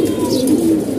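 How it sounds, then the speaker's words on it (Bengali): Racing pigeons from a tournament loft give a continuous low cooing drone, loud and close, with no gaps in the brief stretch. "দেখার মতন কবুতর এগুলো রাখা আছে"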